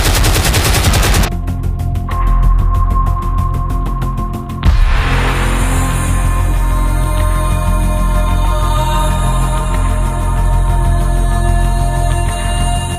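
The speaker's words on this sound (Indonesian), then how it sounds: "kota Malang dihujani bom dan tembakan militer liur oleh pesawat terbang Belanda" Military attack sound effect of a 1947 air raid: rapid machine gun bursts rattle loud and close, joined partway by a heavier sustained barrage of gunfire that continues without pause, no voices.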